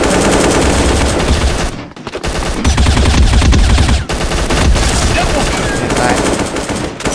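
Loud, nearly continuous automatic gunfire from the mobile shooter game Bullet Angel, dense rapid bursts filling the whole stretch with only a couple of short gaps between volleys.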